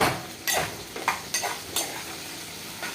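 Chopped chillies fry in hot oil in a home kitchen, a quiet steady sizzle broken by four or five sharp scraping stirs of a spoon against the pan at uneven intervals.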